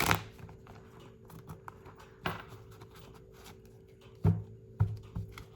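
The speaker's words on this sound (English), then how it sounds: "One more shuffle." Tarot cards being shuffled by hand, heard as a few sharp riffling bursts and softer card rustles spread over a quiet background, close and moderately faint.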